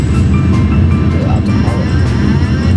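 An Airbus A340 on landing approach in Flight Simulator X, a loud steady low jet engine rumble with airflow noise, continuous and close.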